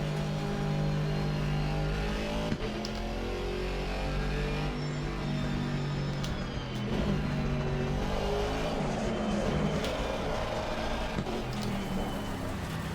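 A race car engine in the Assetto Corsa Competizione racing game, played on Xbox Series X, drones steadily with a layered, humming tone through a multi-class race. Faint clicks and shifts in pitch punctuate the sound throughout.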